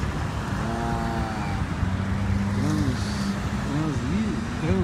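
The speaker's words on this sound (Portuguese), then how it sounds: "O caminhão vai sair, tá aquele caminhãozinho verde ali" A small green truck pulls away in a street with traffic, its engine rumbling low and steady throughout while voices talk over it nearby.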